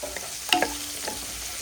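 Chopped garlic frying in oil in a pan for prawn chilli, a soft steady sizzle with a brief clatter of stirring near the start, close and fairly quiet with no talk.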